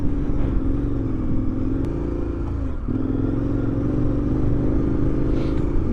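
KTM 1090 motorcycle engine pulling hard in second gear on a desert ride, a loud, steady rumbling drone with a brief dip in pitch near the middle before it climbs again.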